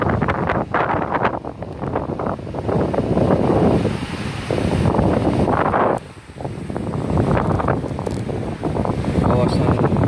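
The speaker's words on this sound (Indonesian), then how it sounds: "angin sangat kencang sekali" Very strong midnight wind gusting hard through trees in Sandakan, a loud roaring buffet across the microphone with rustling, rising and dipping in surges, one brief lull near the middle.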